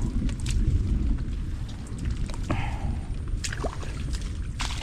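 Steady rain falling on a farm, a dense hiss of drops with scattered heavier patters on a surface, continuous and fairly close.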